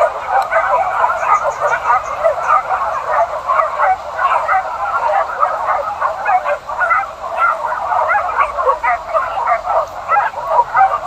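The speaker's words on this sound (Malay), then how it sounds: "Itu anjing-anjing pemburu sudah berkeliaran, teman-teman, mencari babinya." Pack of hunting dogs out searching for wild boar, giving a steady stream of yips and barks throughout, fairly close and busy, with some voices faintly mixed in.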